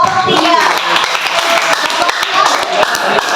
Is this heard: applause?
yes